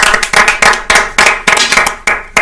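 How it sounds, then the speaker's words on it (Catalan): Audience applause in a lively studio setting, a dense, loud burst of clapping with quick rhythmic surges, close and continuous without pause. "aplaudiu-lo, que per un cop que l'aplaudeixen algú de l'Espanyol"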